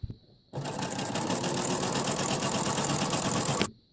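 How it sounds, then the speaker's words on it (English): A sewing machine stitches a tote bag seam, a steady, close, loud mechanical whir running for about three seconds after a brief quiet start, then stopping abruptly. "So I'm nearing the end of this seam. I'm going to make one last stitch."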